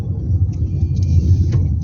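A Toyota Corolla engine labors up the steep Snake Road in Brgy Mabato, Calamba, Laguna, a loud, close, continuous low rumble with road noise and faint higher whines over it.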